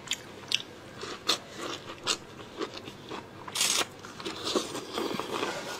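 Someone biting into and chewing pork knuckle up close, with wet crunchy bites and smacking chews in an uneven rhythm, one louder crackling bite partway through.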